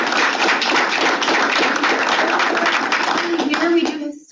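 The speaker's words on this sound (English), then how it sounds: "Let's give Johnny a round of applause." A seminar audience claps continuously and fairly loudly for about four seconds, a dense wash of hands that tapers off abruptly at the end.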